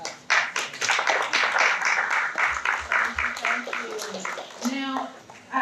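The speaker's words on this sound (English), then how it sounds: "I appreciate the hand clap for me, but why don't you clap for yourselves for being here?" An audience at a hospitality fireside chat claps hands, a dense burst of clapping that rises and falls in waves, with a voice speaking over the later part.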